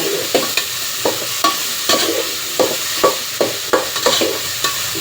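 Food frying in a pan for North Karnataka-style pulao, stirred in a regular rhythm, each stroke giving a crisp scrape over a continuous sizzle, close and fairly loud, with no speech.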